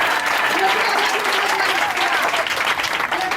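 A church congregation at a Sunday testimony service breaks into loud, sustained applause for Jesus, dense clapping filling the room throughout.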